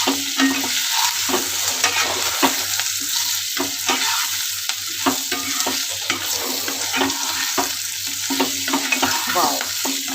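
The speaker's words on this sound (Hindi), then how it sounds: "और यहाँ पर जो हमने हमारे अप्पे बनाए हैं उनको डाल के मिक्स कर देते हैं।" Sprouted moong appe stirred with turmeric in a sizzling pan: continuous frying hiss underneath repeated close scrapes and clicks of a spoon against the pan, loud and steady, with no voices.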